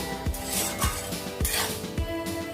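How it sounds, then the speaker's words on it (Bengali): Metal clinks and knocks as the lid comes off a pot of steaming okra in a spiced yogurt gravy, several light taps spread over a couple of seconds above a steady background hum. "এবার আমি ঢাকনাটা খুলে দেখে নেবো আমার ভেন্ডিটা কতটা হয়েছে।"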